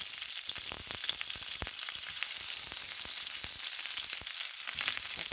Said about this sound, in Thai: ทอดให้หมดเลยนะคะ